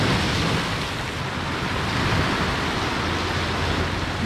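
Ocean surf rolls onto the shore during a fishing outing, a loud, unbroken wash of breaking waves mixed with wind rumble on the microphone, no voices.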